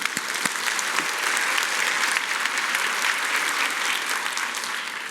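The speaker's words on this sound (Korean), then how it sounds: "박수 한번 쳐주세요." A church audience applauds steadily, a dense burst of clapping that holds at a fairly loud level for several seconds.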